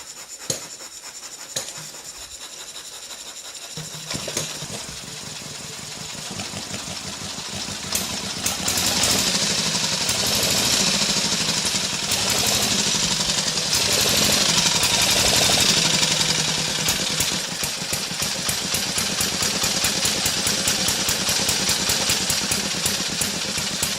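An antique 1913 Elk motorcycle engine starts after a few sputtering tries, then runs with a rapid, loud mechanical chatter that grows busier and steadier over the following twenty seconds.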